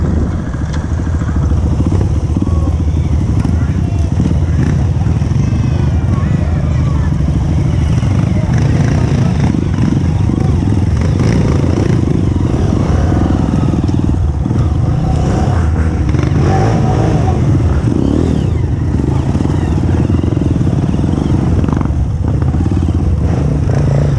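A motorcycle runs continuously on a dirt trail ride in the Serra da Canastra, its engine loud and close with rough rumbling, clatter and scraping throughout.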